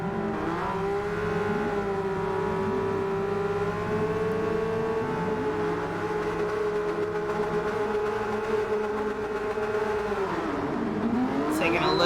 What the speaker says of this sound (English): We've got engines revving.